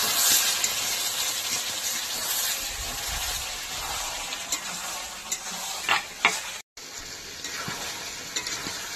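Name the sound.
desi chicken being sautéed covered in a pan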